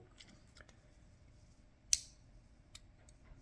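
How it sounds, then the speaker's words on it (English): A sharp metallic click as the scissors of a Leatherman Wave Alpha multi-tool snap open, followed by a faint tick, against quiet background hiss. "fingernail notch here, pull out the scissors, close it back up."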